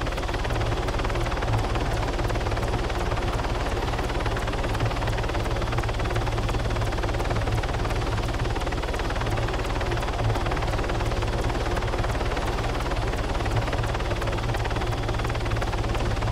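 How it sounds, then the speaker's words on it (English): Helicopter rotor and engine drone from ARMA 3 gameplay, a loud, steady low whirring with constant chopping thrum that holds unbroken throughout, no talk over it. "Helicopter."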